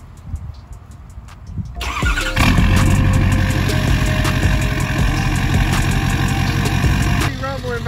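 A Ford 6.7L Powerstroke diesel pickup truck fires up after a few soft clicks, then settles into a loud, steady, close rumbling idle that continues to the end.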